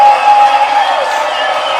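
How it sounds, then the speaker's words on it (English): A large audience fills the space with dense, steady applause and crowd noise, close and loud, holding evenly from start to finish with scattered cheers mixed in. "we got to give her another round of applause."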